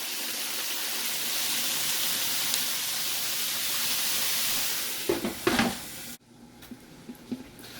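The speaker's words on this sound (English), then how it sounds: "now on a low flame, we will put it to steam for about 5 to 7 minutes" Vegetables cook in a pan over a low flame, giving a steady hissing sizzle; near the end a few stirring clatters break in before the sound drops away quietly.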